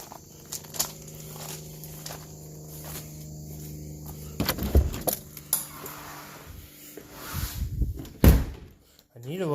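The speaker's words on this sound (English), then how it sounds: "First, go back in here and lock this door, of course." A door is shut and locked at home, with a few sharp thuds and clicks of the latch and handle standing out against quiet room noise and some rustling.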